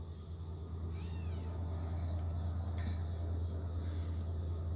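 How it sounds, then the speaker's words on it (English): A domestic cat meows once or twice, faint and fairly distant, during a property clean-up over a steady low hum. "The cat might come up and say hi."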